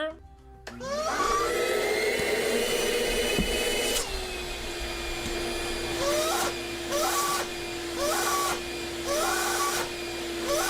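A household vacuum cleaner drones steadily for several seconds at close range, its pitch shifting as it runs, with short chirping noises and loud bursts recurring over the constant hum.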